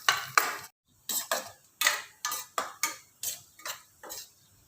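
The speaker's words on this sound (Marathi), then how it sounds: "पिस्ता आणि सुकं खोबरं सर्व मिश्रण छान परतून घेऊया." A spoon scrapes and clinks against a pan while a pistachio and dried coconut mixture is stirred, with repeated short metallic strokes in a steady rhythm separated by brief pauses, close and fairly loud.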